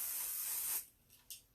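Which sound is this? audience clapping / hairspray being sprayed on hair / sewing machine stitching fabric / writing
hairspray being sprayed on hair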